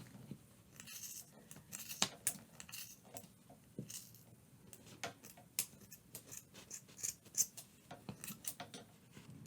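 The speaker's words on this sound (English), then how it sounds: "Take your scissors, insert into the top loops, and just start cutting." Repeated snipping of scissors through yarn, quick crisp cuts in irregular bursts close by, with faint handling noise between them.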